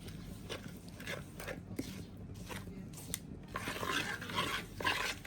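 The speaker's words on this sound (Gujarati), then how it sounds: "હવે આ બધું આપણે હલાવી નાખીશું" Ginger garlic paste is stirred into a fish masala, giving soft, irregular scraping and rubbing strokes of a spoon against the mixture, close and quiet.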